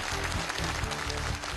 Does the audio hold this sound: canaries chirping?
no